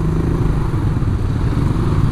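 A motorcycle rides through traffic at night, its steady mid-pitched engine drone and road rumble loud and continuous throughout, with no one talking.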